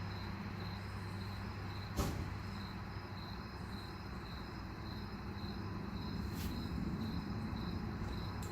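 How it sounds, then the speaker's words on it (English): Crickets chirp outdoors at night in a constant, high, thin trill that runs steadily under a low background rumble of distant traffic, with a couple of brief faint knocks nearby. "I don't know if you can hear the crickets or not."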